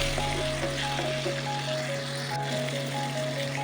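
Pointed gourd and potato pieces frying in oil in a pan, a steady close crackling sizzle running throughout, with a faint tonal hum underneath and no talk.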